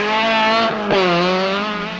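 Rally car number 5, driven by Bernard Darniche at the 1977 Tour de Corse, roars past close and loud, its engine note shifting sharply as it passes, with a brief tire squeal.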